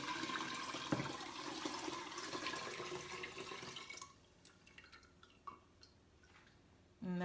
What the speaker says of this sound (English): we're gonna put this in our water to make our horchata and we're gonna strain it